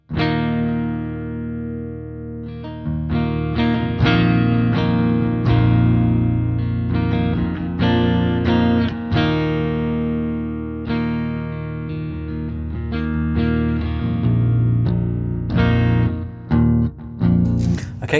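A 7-string electric guitar with a 27-inch scale neck and active pickups, tuned down to G, played through a clean tone. Low, lush chords and picked notes ring out close and sustained with reverb, with no talking.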